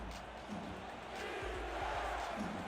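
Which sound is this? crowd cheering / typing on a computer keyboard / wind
crowd cheering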